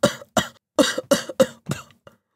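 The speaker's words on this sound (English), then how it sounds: "And he started to cough." A string of about seven sharp coughs in quick, uneven succession, close and fairly loud, with no other sounds around them.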